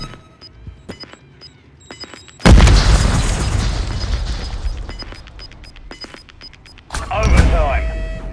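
A grenade detonates in Call of Duty: Modern Warfare 3 on the favela map, a sudden loud boom with a long rumbling tail, preceded by sparse gunfire clicks and followed by a second burst, with game voice callouts.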